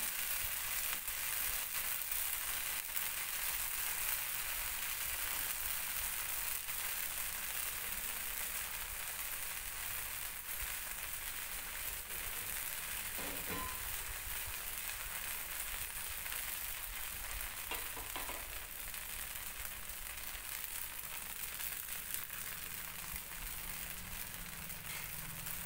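Wheat flour buttermilk dosa fries in oil on a pan with a constant, even sizzle and fine crackle that holds steady throughout, close and unbroken, with no voices over it.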